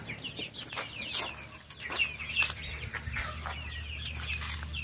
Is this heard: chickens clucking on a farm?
yes